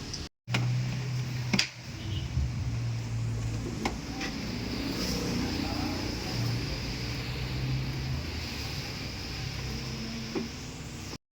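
A Mitsubishi Montero with low power and heavy smoke idles steadily, a low continuous engine rumble holding even throughout with a brief gap near the start.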